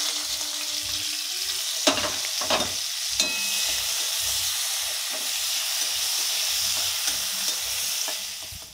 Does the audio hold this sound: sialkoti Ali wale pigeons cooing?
no